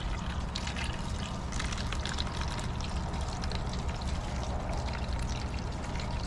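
Water poured steadily into a cup holding seed pods, a continuous close splashing trickle lasting several seconds with no voices.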